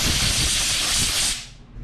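Compressed air blasts through freshly brake-cleaned threads of a stripped hole being repaired with a Time-Cert insert, a loud steady hiss for over a second that cuts off and trails away.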